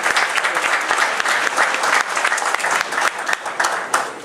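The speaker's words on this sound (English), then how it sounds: "Give him a round of applause." Town hall audience in the Bronx applauding, dense sustained clapping from a crowd that stays loud and even, with slight swells and dips across the stretch.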